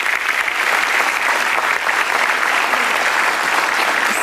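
Studio audience applause for Ibu Dewi Fortuna on an Indonesian television talk show, a full, even wash of many hands clapping, loud and unbroken from start to finish.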